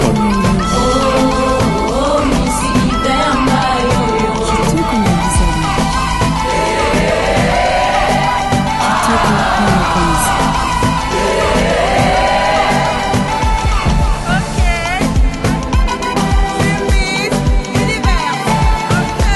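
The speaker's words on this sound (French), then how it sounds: "Applaudissez pour la candidate numéro 4" Loud, dense cheering and yelling from an audience at the Miss Universe DRC 2025 pageant for a contestant, with whoops and shouts rising over a sustained crowd roar throughout.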